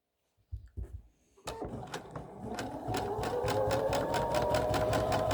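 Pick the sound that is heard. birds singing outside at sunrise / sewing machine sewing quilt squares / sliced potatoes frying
sewing machine sewing quilt squares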